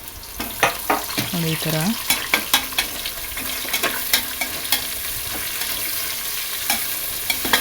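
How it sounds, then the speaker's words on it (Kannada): Onions fry in hot oil for chicken biryani with a bright, steady sizzle, punctuated by repeated scraping and clinking as a spatula stirs the pan, and a brief voice speaks. "ಈರುಳ್ಳಿ ಕಲರ್ ಚೇಂಜ್ ಆಗುತ್ತಲ್ವ, ಅಲ್ಲಿವರೆಗೂ ಹುರ್ಕೊಬೇಕು."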